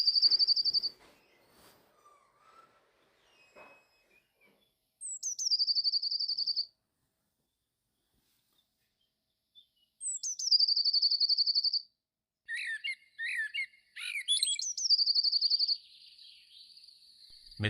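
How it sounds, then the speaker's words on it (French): Great tits, blue tits and a nuthatch chirp and call at a garden fountain, with clear high whistled phrases in several separate bursts between quiet gaps, plus a few softer distant notes. "Les mésanges charbonnières, les mésanges bleues et même une citelle viennent se désaltérer."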